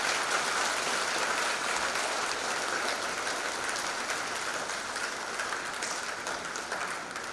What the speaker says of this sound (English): let us give them another big round of applause